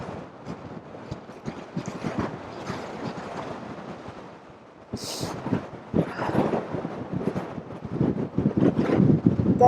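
Wind gusts buffet the microphone on a hillside above Derwent Water, a continuous rough rumble that swells and grows louder toward the end.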